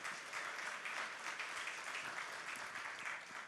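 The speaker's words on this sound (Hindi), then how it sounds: "मैं चाहूंगा आप सभी लोग इनका जोरदार तालियों से एक बार स्वागत करिए।" An audience at a TV9 Global Summit gathering claps to welcome politicians, a dense, steady wash of applause continuing evenly throughout without voices.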